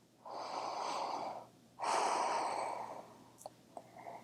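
Two long, deep breaths through the nose during a backbend vinyasa yoga flow, close and audible, each a drawn-out airy rush followed by faint small sounds.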